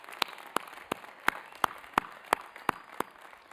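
Sparse applause for graduates at a university master's commencement ceremony, a handful of separate, sharp claps at an even pace over quiet room tone, fairly faint.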